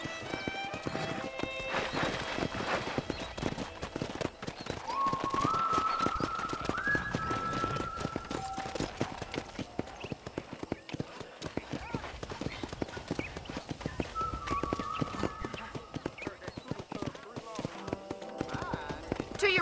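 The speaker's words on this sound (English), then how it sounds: "Okay, let's see if you can still ride a horse." Steady hoofbeats clip-clop throughout in the game Red Dead Redemption, with an occasional horse whinny and some game music mixed in, while speech is heard faintly underneath.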